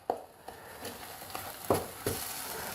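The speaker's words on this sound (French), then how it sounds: "On mélange jusqu'à ce que tous les morceaux s'agglutinent, que notre panade se détache des bords de la casserole" Choux pastry panade stirred firmly in a saucepan, giving a few soft scraping and sticky slaps at an uneven pace over a faint background hiss, close and fairly quiet.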